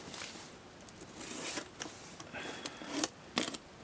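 Cardboard package box from Tatsu Hobby being opened by hand, with a run of soft scraping, rustling and tearing plus a few sharper rips near the end, close and fairly quiet.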